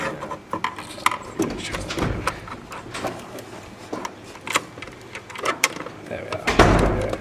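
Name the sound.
screws being tightened with a magnetic screwdriver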